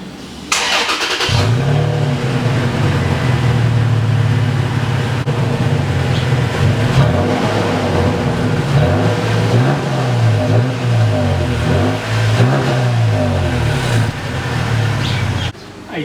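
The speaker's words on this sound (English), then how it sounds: "we're gonna do this cold start on the stock exhaust right now" A 2017 Toyota Tacoma on its stock exhaust cold-starting, the engine catching and settling into a loud, steady, close idle with a deep low rumble that holds throughout before cutting off.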